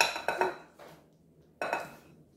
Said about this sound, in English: I'm just whisking it all in